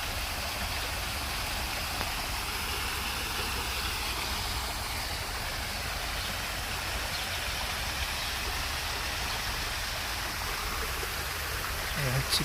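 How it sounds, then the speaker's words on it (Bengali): Water pours down from a fountain-like feature at a swimming pool at a rest house in Riyadh, Saudi Arabia, a steady, even hiss of falling water filling the whole stretch with no talk. "উপর থেকে পানি পড়ে।"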